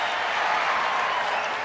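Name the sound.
baseball stadium crowd of nearly 50,000 cheering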